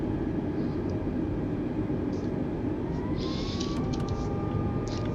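Alaska Airlines A320 jet engines on takeoff in Microsoft Flight Simulator, a steady loud low roar with a faint rising whine, no talk.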